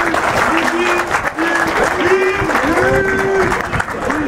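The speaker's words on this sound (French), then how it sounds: "on peut tous un peu applaudir Guy" A crowd at a football league event applauds the organizer, loud sustained clapping mixed with cheering and overlapping voices throughout.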